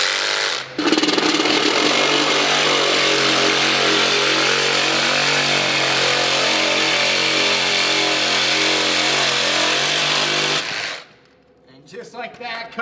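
A Milwaukee power tool cuts a Ferrari in half, a loud, steady grinding whine with rattling that runs nearly unbroken for about ten seconds, then stops abruptly, leaving faint clatter.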